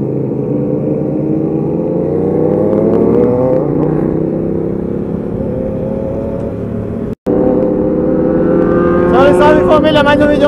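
A car revs hard and accelerates with a rising, shifting engine drone, loud and close from inside; talk is heard in the last seconds.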